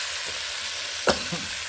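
Vegetables including ridge gourd, eggplant and red amaranth stems frying in spice paste, a constant hissing sizzle with a brief scrape of stirring partway through.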